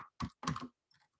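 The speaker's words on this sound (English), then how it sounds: "if I start typing it in here" A few keystrokes on a computer keyboard in a coding editor, three crisp clicks close together, then a softer pair of taps after a short pause, in a quiet room.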